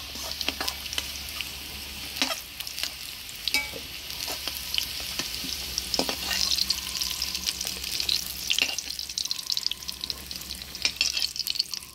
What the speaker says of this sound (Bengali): ফোড়নে দিয়ে দেবো শুকনো লঙ্কা, গোটা জিরা, তেজপাতা।